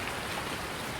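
Rain falls steadily on the Shamrock Valley farm in Farming Simulator 19, a dense, even hiss of drops heard alone for a brief moment.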